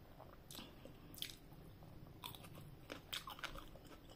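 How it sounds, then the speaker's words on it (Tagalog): Crunchy tomato being bitten and chewed during a chicken adobo meal; soft, close crunching bites and wet chewing sounds come in a few separate bursts at low volume. "Malutong ng kamatis."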